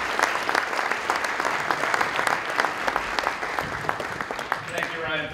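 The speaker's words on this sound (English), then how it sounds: "Can we give a round of applause for Mr." An audience at a Louisville public schools academies unveiling event claps loudly and steadily, with individual sharp claps standing out from the dense crowd applause.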